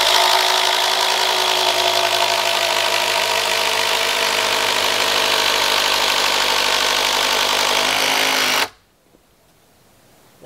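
Power drill bores into an ash timber post for front porch framing at an off-grid earthbag workshop, a loud steady whirring drone for about eight seconds before it cuts off abruptly to near silence.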